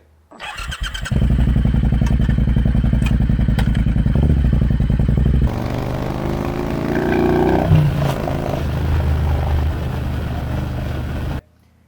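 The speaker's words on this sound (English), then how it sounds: "this seems to have got that sort of exhaust note I had" A motorcycle engine fires up and settles into a deep, throaty exhaust rumble, running steadily and loud up close for around ten seconds before cutting off.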